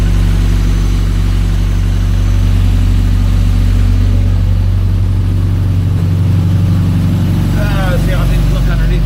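A 1982 VW Westfalia engine idles steadily after an O2 sensor has been fitted, a loud continuous low rumble throughout, with faint speech near the end.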